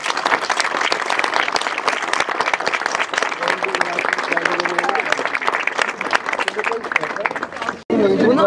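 Loud, sustained applause from a crowd at a political party gathering in Ataşehir, dense clapping with a babble of voices mixed in, cutting off sharply near the end.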